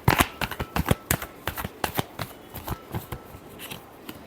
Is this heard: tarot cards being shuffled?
yes